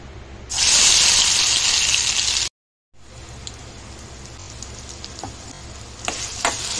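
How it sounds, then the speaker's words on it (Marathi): A loud, hissing sizzle of spice paste hitting hot oil for stuffed pomfret fry, a brief silence, then softer, steady frying crackle with occasional pops. "मसाला आपण फ्राय करून घेऊया।"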